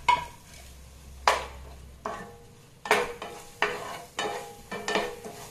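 Crushed onion, green chilli, pepper and cumin stirred into a sardine curry in a pan, giving repeated scraping stirs and soft sizzling in a steady rhythm, close up, with no talking.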